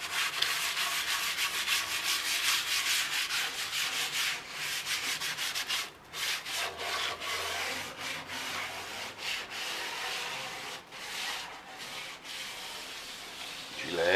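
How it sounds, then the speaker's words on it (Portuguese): A wooden rack being hand sanded with fine 320-grit sandpaper, a close, continuous rapid rasping of quick back-and-forth strokes with brief pauses in between, and no talking over it. "Uma lixa 320."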